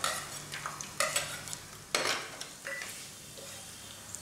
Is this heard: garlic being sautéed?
yes